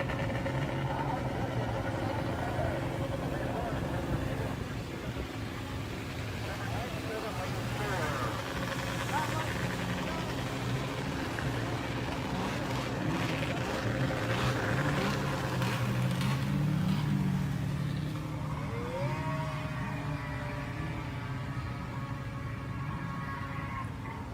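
Vintage snowmobile engines idle and rev at a drag race at Houghton Lake, Michigan, a steady mid-range motor drone with occasional rising revs, moderately close, under continuous talk from a crowd.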